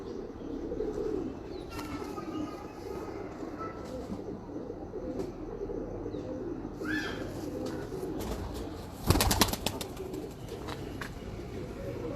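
On a rooftop in Lahore, Teddy pigeons coo softly with scattered chirps against a constant outdoor hiss. A brief, louder fluttering burst comes near the end.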